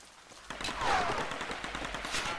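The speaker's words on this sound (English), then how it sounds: "they're firing and blowing stuff up" Enemy gunfire rattles through a Tomb Raider battle at the Solarii Fortress, a steady spread of shots and bursts at mid distance over a noisy rumbling backdrop, with no talk.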